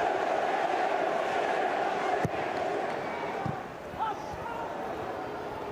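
Roar of a stadium crowd during an FA Cup fifth-round match between Nottingham Forest and Manchester United at the City Ground, including about 4,000 visiting Manchester United fans, as a steady, dense wash of voices with a sharp thud partway through.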